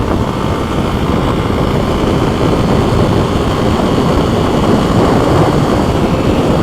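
A Kawasaki KLX300 dirt bike engine running roughly at idle, a loud, dense, continuous rumble close by with no one speaking.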